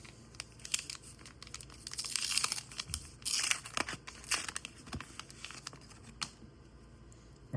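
Star Wars: Unlimited trading card booster pack wrapper being torn open, close crinkling and ripping foil with quick crackly bursts, loudest in the middle, then lighter rustling of handled cards.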